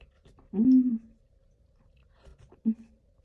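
Someone eats mushroom cream soup, with a couple of short, close chewing and mouth sounds separated by quiet, no speech.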